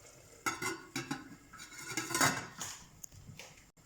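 Several distinct metallic clatters of a lid and pan being handled as a cooking pot of cluster beans and tomato curry is covered, with quieter scraping between the knocks.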